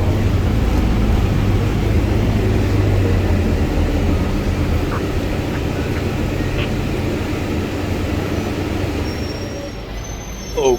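Steady low rumble of a Transmillennial transit vehicle riding smoothly in the early morning, a continuous broadband drone with faint tonal whines and a brief squeal near the end.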